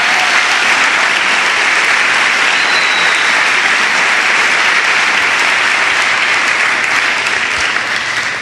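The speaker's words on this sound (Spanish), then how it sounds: "¿Qué tal si le da un fuerte aplauso al Señor?" A church congregation breaks into loud, sustained applause, a dense wash of clapping that holds steady throughout before easing slightly at the end, with no talking.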